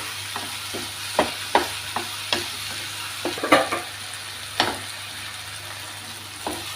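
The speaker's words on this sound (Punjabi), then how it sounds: "ਹੁਣ ਅਸੀਂ ਇਹਦੇ ਵਿੱਚ ਪਾ ਲਾਂਗੇ ਆਲੂ ਇੱਕ ਮਿੰਟ ਅਸੀਂ ਇਹਨਾਂ ਨੂੰ ਹਿਲਾਵਾਂਗੇ ਆਲੂਆਂ ਨੂੰ" Potatoes fry in a kadai while being stirred. A steady sizzle runs underneath as a utensil scrapes and clinks against the pan in irregular, close, moderately loud strokes.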